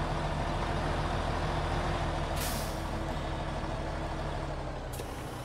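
A P-16 truck engine in a video game drones loud and steady while hauling a trailer uphill, with low rumbling tones and two short hissing bursts, like air brakes, near the middle and end.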